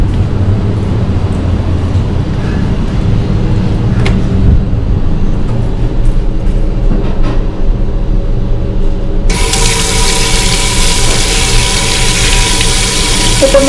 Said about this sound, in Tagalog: yung gripo dito, hindi yan titigil hanggat, kasi parang sensor siya eh